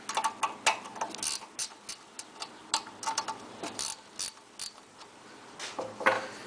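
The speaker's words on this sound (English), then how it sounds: "just wrench, take these little bolts off" A wrench loosens small bolts on a Doodlebug 30 carburetor, making irregular close ratcheting clicks and metallic ticks in short bursts, with brief pauses between turns.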